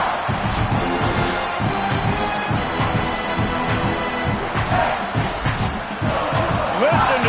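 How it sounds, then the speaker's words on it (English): A loud, roaring college football stadium crowd at a Texas A&M at South Carolina game yelling and cheering continuously, with a rhythmic stomping pulse underneath and occasional sharp whistles. "Listen to this crowd just shaking the girders of this place, trying to help their defense."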